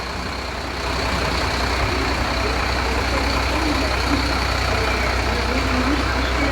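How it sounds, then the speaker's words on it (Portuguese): A 2021 Mercedes-Benz Atego 2426 6x2 water tanker truck idles nearby with a steady diesel rumble, holding constant after a slight rise in the first second. "Aí, Diógenes, caminhão funcionando, ó."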